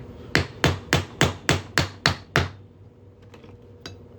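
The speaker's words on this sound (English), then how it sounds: "I'm just gonna hammer this on through here" Seven sharp, evenly spaced metallic hammer strikes on a quarter coin being made into a ring ring out close by, followed by a few faint taps and quiet shuffling.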